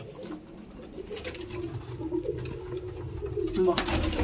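Abluk pigeons give a soft, steady cooing drone in their loft, faint and continuous throughout, with a few light knocks and rustles on top.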